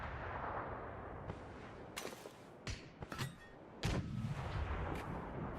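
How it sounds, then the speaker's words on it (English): Mortar rounds fire in a video game match, several sharp distant booms and cracks scattered over a faint noisy background, with a louder blast near the end. "And now he has more mortars to go forward."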